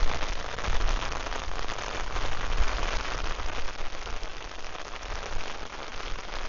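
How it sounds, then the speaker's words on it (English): Steady rain pours at Bangwad Reservoir in Phuket, Thailand, a dense, even hiss of drops on surfaces lasting throughout, close and fairly loud, with no voices. "because I'll be quite stuck in the rain now"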